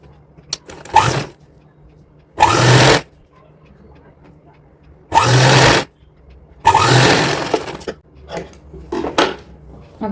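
A sewing machine stitches a doubled two-inch fabric strip for a little girl's outfit in several loud buzzing runs of a second or so, separated by quieter pauses with handling clicks.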